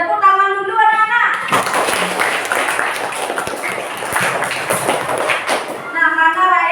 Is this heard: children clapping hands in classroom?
yes